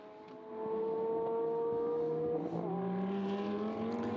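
GT race cars at Magny-Cours, engines droning steadily at mid distance with sustained tonal whine and pitch shifts as cars pass and change gear, no talk.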